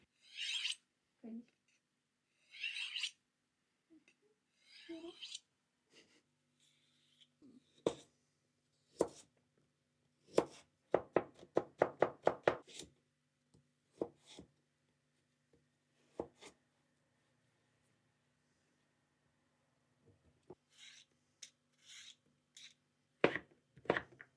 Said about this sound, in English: I have to chop it up with a knife, which is fun, but takes a really long time.